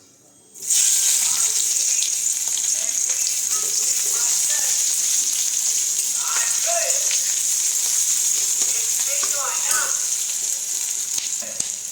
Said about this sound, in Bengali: এই যে পেঁয়াজটা ভাজা ভাজা হচ্ছে